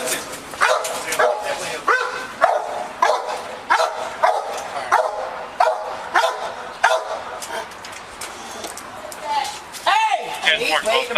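A police K-9 dog barks repeatedly in loud, rhythmic bursts close by during a sheriff's deputy search, while people talk and shout over and between the barks.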